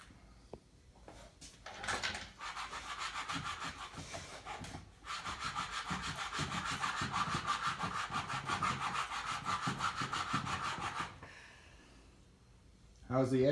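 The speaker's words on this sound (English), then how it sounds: "So instead we set up a piece of sandpaper on the bench here." Wooden end grain coasters are rubbed back and forth on a sheet of sandpaper laid on a workbench, giving a steady, close scratching that pauses briefly midway; a person speaks at the end.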